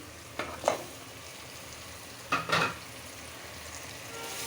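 Pieces of fish frying in masala in a pan for a Bengali fish curry with potato and tomato, a soft continuous sizzle broken by two brief louder bursts of stirring and spattering, no talking.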